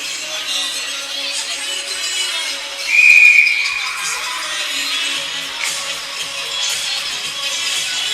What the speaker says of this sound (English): Another save with the glove by Doucette for a whistle and a stoppage in play.